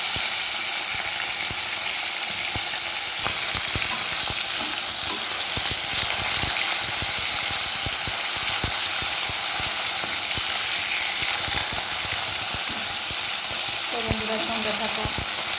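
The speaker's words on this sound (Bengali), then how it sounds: "আমি এক এক করে সব মাছগুলোকে ভেজে নিচ্ছি" Pomfret fish frying in hot oil in a kadai fills the space with a loud, dense, continuous sizzle and crackle, steady from start to end, with scattered pops and a brief clatter near the close.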